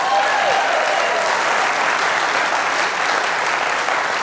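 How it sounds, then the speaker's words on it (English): An audience applauds steadily and fairly loudly, a continuous wash of clapping that holds for a few seconds. "I appreciate the applause."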